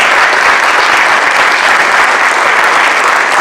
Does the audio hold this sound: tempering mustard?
no